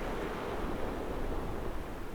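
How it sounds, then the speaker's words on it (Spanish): Broadband roar of Antarctic sea surf and wind, continuous and fairly loud across the whole stretch with steady low rumble and no voices. "puedo escuchar el mar"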